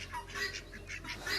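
Faint ducks quack in the distance, several soft calls over a steady low background hum.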